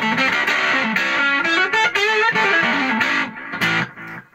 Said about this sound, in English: So it's an overdrive pedal.